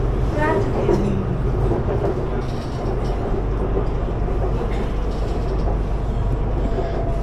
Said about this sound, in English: this is the train that goes there